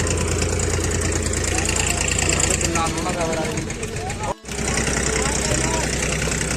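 A boat's engine chugs steadily on Govind Sagar Lake, a close, even mid-pitched drone running under people talking, with a brief dropout near the end.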